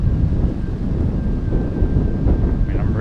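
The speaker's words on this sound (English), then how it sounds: "But now I have a headwind" Rumbling headwind batters the microphone while riding a $200 electric unicycle, a loud, continuous low roar with a faint thin whine from the wheel running through it.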